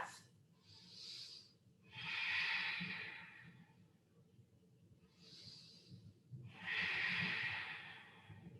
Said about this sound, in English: Take a big deep breath.